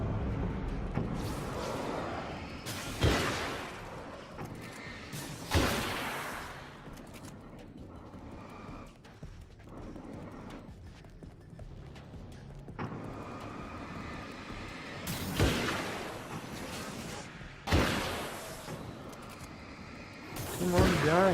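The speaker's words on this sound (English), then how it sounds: "This hunting rifle is way stronger than the previous one." Hunting rifle shots in the game Alan Wake's American Nightmare, a handful of sharp, loud blasts spaced several seconds apart over a steady rumbling game background.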